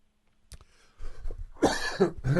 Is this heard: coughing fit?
yes